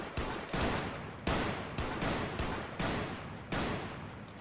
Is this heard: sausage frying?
no